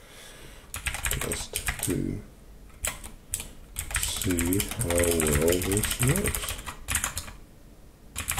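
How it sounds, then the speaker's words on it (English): Quick bursts of clicky keystrokes come from a cheap $40 mechanical keyboard, arriving in uneven clusters, with someone speaking briefly over part of the typing. "actually, typing very nice"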